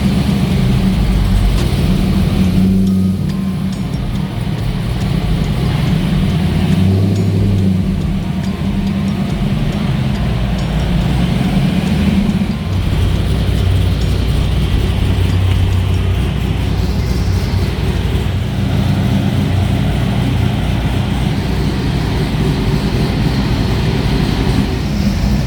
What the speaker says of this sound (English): We're gonna get this thing up on the dyno.